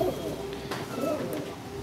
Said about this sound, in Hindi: आज फाइनली दासू का लाइन का कबूतर मुझे कंप्लीट सेटअप मिला है